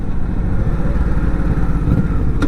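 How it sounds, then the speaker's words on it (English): A 2007 Honda Shadow Spirit VT1100 motorcycle engine runs with a steady, loud low rumble throughout, with no voices and no break in the sound. "That's the bike. 2007 Honda VT1100 Shadow"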